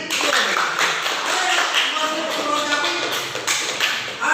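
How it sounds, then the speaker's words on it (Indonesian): Dense applause from a classroom of students during a peer-teaching lesson, a steady wash of many hands clapping at close range for about four seconds without a break. "Tepuk tangan untuk Mbak Resi"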